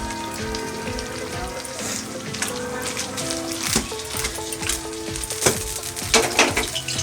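Cake pitha fries in a wok as the pan is handled to flip it, a steady crackling sizzle with sharper clatters and bursts toward the end.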